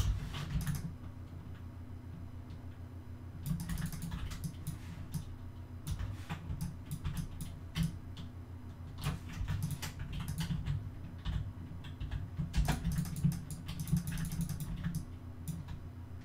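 Computer mouse clicks during 3D modelling work, scattered light ticks in irregular bursts over a steady low hum of background noise, fairly close but not loud.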